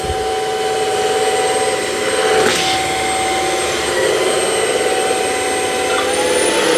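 A Bissell CrossWave OmniForce Edge cordless wet dry vacuum runs continuously on low suction with a steady whine and airy roar, close and loud throughout, with a brief knock partway through.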